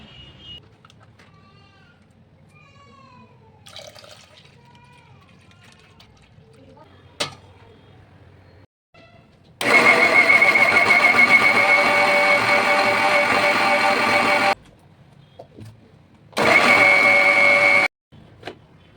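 An electric grinder pulverises rice for making pitha, running in two loud steady bursts, one long and one shorter, with quiet kitchen sounds and brief knocks between.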